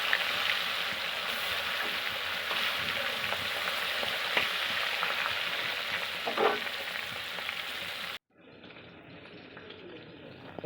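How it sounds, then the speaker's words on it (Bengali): Koi fish frying in hot oil, a loud continuous close sizzle with faint scraping that cuts off abruptly near the end, leaving a quieter hiss. "তেল গরম হয়ে গেছে, এবার আমি কই মাছগুলো তেলের ওপরে দিয়ে দেব।"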